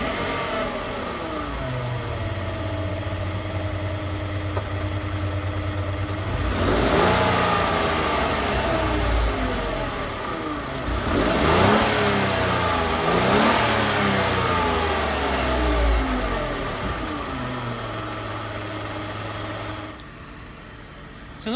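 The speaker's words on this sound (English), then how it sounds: "So not too bad of an exhaust note." A 2015 Renault Twingo's engine idles, then revs in two rising bursts before dropping back to a steady idle. The mid-pitched exhaust note is close and clear with no talking.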